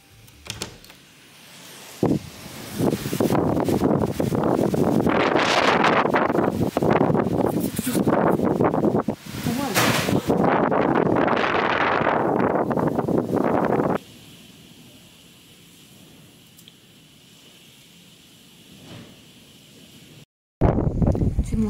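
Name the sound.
strong wind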